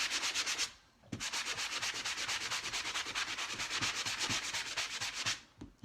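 A small sanding block rubs back and forth over dried paint in quick, even strokes, a close, bright rasping rhythm that pauses briefly near the start and again at the end.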